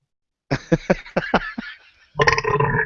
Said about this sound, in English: We need to start critiquing the burp.